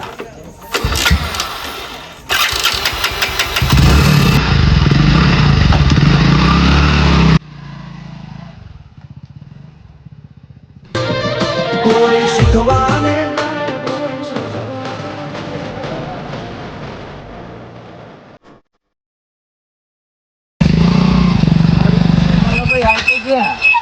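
A motorcycle engine cranks, starts and runs, loud and close, cutting out and restarting in bursts, with a person talking over it and a brief silence near the end.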